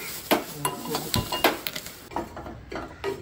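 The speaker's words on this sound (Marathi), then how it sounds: "तर आता आपण हा कांदा पण फ्राय करून घेतोय" Onion frying in a hot pan, with a soft sizzle running under repeated close clinks and scrapes of a spoon stirring against the pan.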